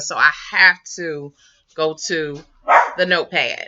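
A pet dog barks in short yips while a person talks over it indoors, the barks mixed in among the speech.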